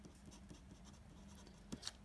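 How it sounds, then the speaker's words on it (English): A Sharpie fineliner pen writes on Tolmore River ink-resistant paper, giving a faint, close, steady scratchy rasp with a couple of slightly sharper strokes near the end. "Let's just do a little writing."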